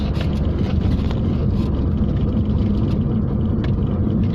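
Renault Megane Coupe driven fast along a narrow country road, its engine and road noise forming a loud, steady low rumble throughout with no talk over it.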